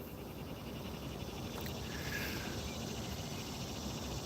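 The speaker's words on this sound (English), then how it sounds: "Hear the cicadas?" Steady insect buzzing from cicadas on a hot early morning, a continuous drone heard alone at moderate distance with no talking.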